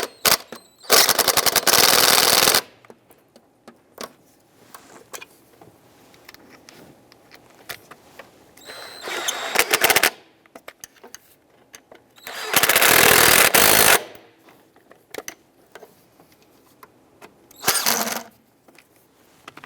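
Impact tool driving throttle body bolts on a 2002-2008 Dodge RAM, loud ratcheting bursts of a couple of seconds each, repeated several times with quiet handling noises between them.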